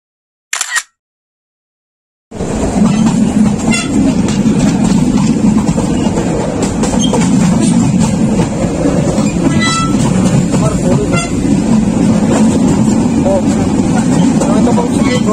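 The 802 Chattala Express runs from Dhaka to Chittagong, heard from on board. A brief burst and a short silence give way to a loud, continuous rumble with scattered rattling clicks.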